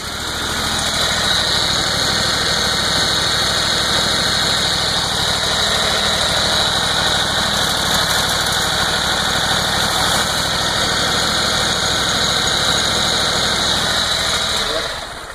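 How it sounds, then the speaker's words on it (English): A 22 horsepower Kohler engine on a lawn mower runs in a loud, steady drone with a high buzzing whine, close up and unbroken for the whole stretch. "A 22 horsepower Kohler engine"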